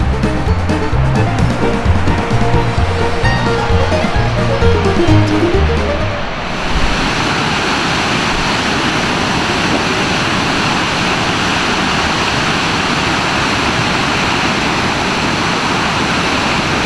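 A waterfall at Tettegouche State Park, Minnesota, in early spring thaw roars as a loud, steady broadband rush that takes over after a brief burst of music at the start.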